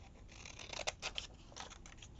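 Scissors snipping through paper to cut out a word, a few quiet close-up crisp snips in a short burst, with no voices.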